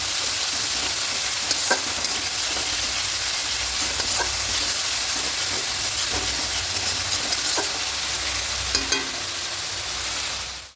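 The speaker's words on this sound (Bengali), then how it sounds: "এবার সব কিছু খুব ভালো করে একটু কষিয়ে নেব" Katla fish kalia masala with spices and salt sizzles loudly and continuously in hot oil, a dense steady hiss broken by occasional soft scrapes and taps of the spoon as the mixture is stirred.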